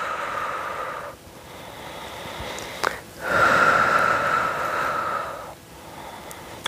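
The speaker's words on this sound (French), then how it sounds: "Inspire et expire." Deep breaths during a workout: a long, airy inhale through the nose, a short pause, then a slow, steady exhale, repeated, close and moderately loud with no talking.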